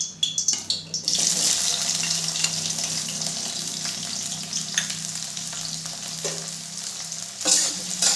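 Chopped onion dropped into about two spoons of ghee for an egg korma, bursting into a loud, continuous, close hiss that stays steady throughout, with occasional spatula scrapes on the pan.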